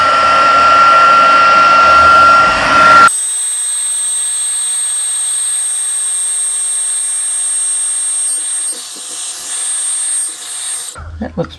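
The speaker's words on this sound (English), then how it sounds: "And we're going to put on a heat gun." A heat gun blows over card-making letters on a handmade greeting card. Its steady whirring roar with a thin whine runs for about eight seconds after a louder, rougher first few seconds, then cuts off abruptly.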